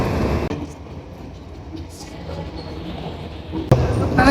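New York City subway train heard as a continuous low rumble with rattling and clatter, a sharp metallic bang near the end as the noise swells.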